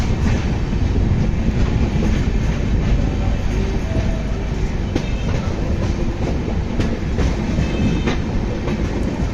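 NJP Howrah Shatabdi express train pulling into Barsoi Junction, a loud steady rumble with clickety-clack of wheels on rails and occasional metallic clanks, heard from inside the moving coaches.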